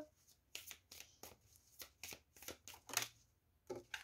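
A tarot deck is handled and shuffled, with repeated soft riffling bursts of cards at an uneven rhythm, close but quiet, with no talk.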